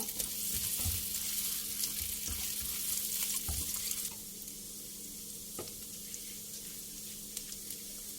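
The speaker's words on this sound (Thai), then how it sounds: "ผัดให้หอมเลยค่ะ เขาเรียกว่าอะไรอะเจียวหอมเจียวกระเทียมให้หอม" Shallots and garlic sizzle and crackle steadily in a frying pan, with a spatula stirring and scraping now and then; the frying is louder in the first half, then settles to a softer, even sizzle.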